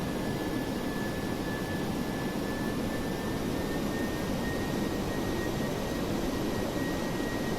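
A McDonnell Douglas DC-8-73F's jet engines in Flight Simulator X give off a steady, loud roaring whoosh of thrust with a faint high whine running through it, continuous and even throughout.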